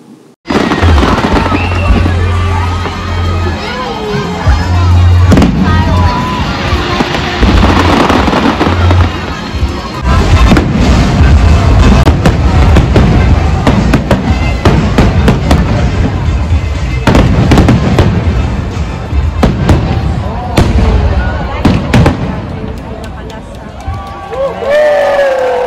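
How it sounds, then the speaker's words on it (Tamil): A Toronto fireworks display set to music: continuous crackling bursts and booming explosions over a steady music and crowd bed, with people talking and cheering nearby. "அந்த மியூசிக்கோட ஃபயர் ஒர்க்ஸ் வந்து ரொம்ப நல்லா இருந்துச்சு."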